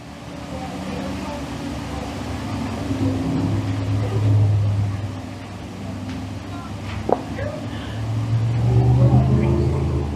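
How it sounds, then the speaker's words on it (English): Panther Frameworx crate sprint cars in a heat race at Can-Am Speedway, a dirt oval: engines droning and swelling at a distance across the whole stretch, with crowd and open-air noise. "Panther Frameworx crate sprint cars."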